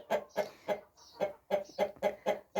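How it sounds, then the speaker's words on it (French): Young Brahma rooster on a backyard poultry farm calling in a quick series of short, clipped bursts, about eight close, loud notes in an uneven rhythm. "Un petit Brahma qui veut chanter"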